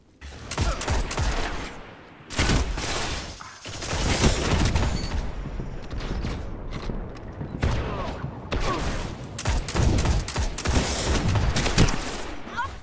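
Rapid bursts of gunfire in the video game Destiny crackle loudly throughout, with dense volleys and a brief lull near the two-second mark.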